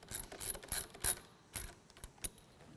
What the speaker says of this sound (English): using the provided cap and Allen screws that are in the kit, we'll go ahead and loosely install these fasteners